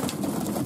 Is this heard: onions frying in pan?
no